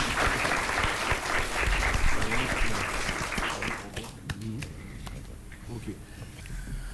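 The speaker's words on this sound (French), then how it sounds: "On peut les applaudir s'il vous plaît." Audience applause fills the room at a French-language youth event, loud dense clapping for several seconds that thins out toward the end, with voices mixed in.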